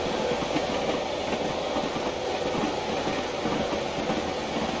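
A Class 111 diesel multiple unit in Train Simulator Classic rumbles along the rails at speed near seventy, a steady dense roar with faint rhythmic clatter from the wheels and no voices.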